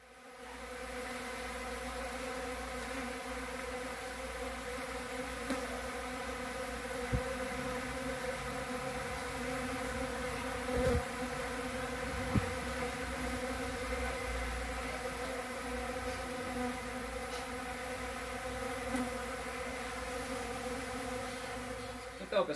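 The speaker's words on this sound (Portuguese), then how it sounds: "esse som que vocês vão ver agora no vídeo é exclusivamente da mandaçaia" Continuous, steady buzzing of many Melipona mandacaia stingless bees, a dense droning hum with a few faint clicks and bumps, heard up close and without speech.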